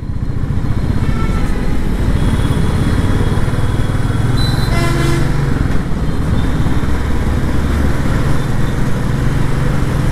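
A Royal Enfield Classic 350 motorcycle just back from service idles with a loud, steady, close engine thrum that holds unchanged throughout, its tuning leaving the idle a little high, with no speech over it.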